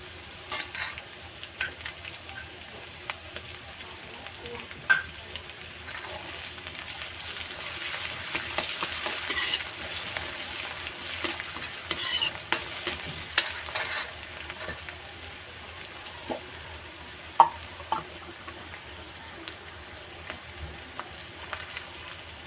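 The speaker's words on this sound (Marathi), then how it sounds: "चांगलं असं तेलामध्ये फ्राय करून घ्यायचं" Chopped ginger fries in hot oil for chilli paneer, with a continuous close sizzle and a crackle that swells while it is being stirred, plus occasional spoon scrapes and taps against the pan.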